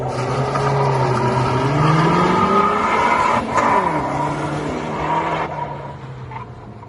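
Car on semi-slick tyres launching hard in a race against a BMW M140i, engine revving loud and close through rising gear pulls, then easing off as the pitch drops near the end.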